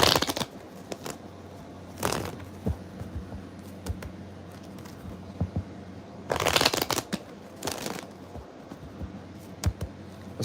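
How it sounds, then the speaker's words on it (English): Tarot cards shuffled by hand in two long riffling bursts with scattered lighter card handling between, close and fairly quiet, no talk. "One more shuffle."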